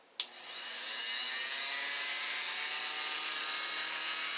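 A Dremel rotary tool, set up for cutting acrylic plexiglass, clicks on and spins up to a steady, high-pitched whine that holds evenly near and loud with no talk.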